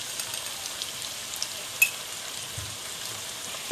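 Onions with salt frying in a pan for chicken korma give a soft, steady sizzle that runs evenly throughout, fairly faint and with no voices.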